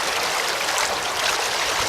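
Deep stream water rushes and gurgles around chest waders in a constant close hiss of flowing current, with no speech.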